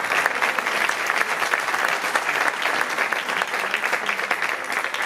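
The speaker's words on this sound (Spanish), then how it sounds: "Un aplauso para Carlos y Ricardo." A live audience at a Spanish stage show applauds two volunteers coming up from the crowd, a loud, continuous round of clapping that holds steady from start to finish.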